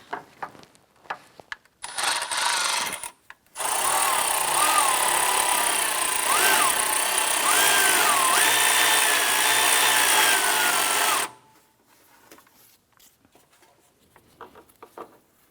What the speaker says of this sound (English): So I'm going to go ahead and tighten the horizontal bolt